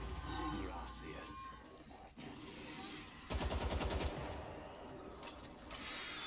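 Gunfire in the World War Z zombie shooter video game, with rapid automatic bursts and scattered shots amid game noise, under a speaking voice.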